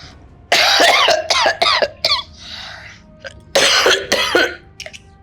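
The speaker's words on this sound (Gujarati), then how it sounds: "કેટલી ઉધરસ આવે છે તમને?" An elderly person in an old-age home coughs close and loud in several harsh bursts with a throat-clearing sound between them, followed by a quieter stretch.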